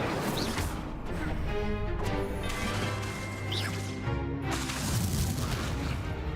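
Spell-casting combat in Hogwarts Legacy, with continuous booming impacts, crashes and magical blasts layered over dense game music and effects, loud throughout with repeated heavy hits.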